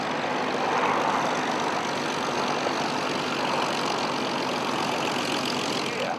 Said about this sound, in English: the taxiing show, which concludes every Flying Legends, where you have Pete John and Leon Mathis in